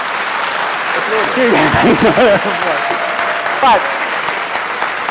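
Audience applause fills a live debate hall on God's existence, a steady wash of clapping under a man's speech that rises over it and then continues.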